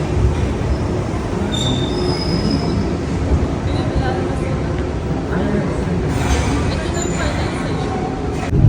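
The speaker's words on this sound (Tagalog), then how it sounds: "Yung cute ng train." A train runs along the railway in Kamakura, Japan, passing close with a continuous heavy rumble and occasional high wheel squeals, while people talk nearby.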